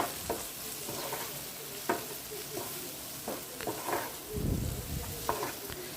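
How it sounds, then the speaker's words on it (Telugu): Half a spoon of coriander powder is stirred into a frying mixture for paneer bhurji, with garam masala and cumin powder already added. A steady sizzle runs beneath irregular scrapes of the spoon against the pan, close and clear. "ఒక హాఫ్ స్పూన్ ధనియా పౌడర్ కూడా వేసుకొని బాగా కలుపుకుందామండి"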